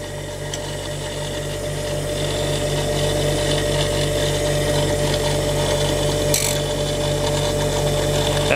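A grinding wheel working the primary bevel of a steel plane blade, a sustained whirring hum with a faint gritty rasp that builds slightly in loudness and then holds steady, close by with no talk.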